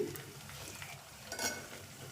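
Ivy gourd curry frying in a pan in a village kitchen, a soft steady sizzle with faint stirring scrapes and a brief louder burst partway through, quiet and close.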